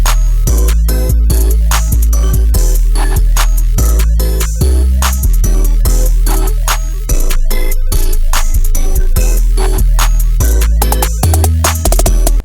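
Full hip-hop beat built in FL Studio, with punchy 808 hits and deep bass locked under a steady pattern of drums and melodic layers, loud and continuous with no talking.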